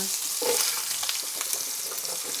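Cold carrots drop into a hot oiled pan and a bright, steady sizzle rises at once, close and loud, with a few light stirring scrapes over the continuous frying hiss.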